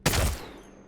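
A Devotion energy machine gun firing in Apex Legends, a sharp, loud burst hitting at once and fading with a short ringing tail, all within under a second.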